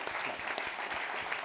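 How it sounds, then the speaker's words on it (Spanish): Audience applause at a podcast presentation in Spain, dense and steady throughout, with no voices rising above the clapping. "Un aplauso para todos."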